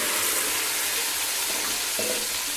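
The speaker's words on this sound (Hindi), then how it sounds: "दूसरी वाली भिंडी शामिल कर देंगे और इसको भी हमने इसी तरह फ्राई कर लेना" Okra (bhindi) frying in a pan, a loud, dense, continuous hiss and sizzle of hot oil with faint stirring scrapes underneath, close and steady throughout with no speech.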